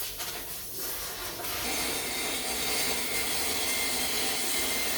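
A saw rips a standard 2x4 into one-inch strips, giving a steady, loud whining cut that builds after a brief start and continues without pause, with no talking.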